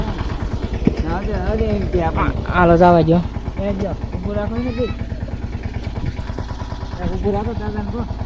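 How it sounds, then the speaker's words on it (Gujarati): A tractor engine arriving from the farm chugs steadily throughout, partly masked by close, continuous talking. "વાડીએથી ટ્રેક્ટર આવે છે"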